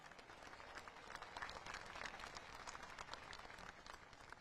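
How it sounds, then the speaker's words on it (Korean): A large crowd at a national appointment ceremony for citizen representatives applauds in a dense, continuous wash of clapping that stays steady throughout, heard at a distance. "여러분, 다시 한번 국민 대표들을 박수로 맞이해 주시기 바랍니다"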